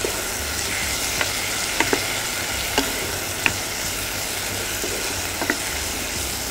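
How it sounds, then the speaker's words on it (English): Turmeric sautés in a hot pan for sambar, a steady loud sizzle broken by scattered small pops and clicks from stirring, with no talk. "we will just turn up the heat and just give it one saute"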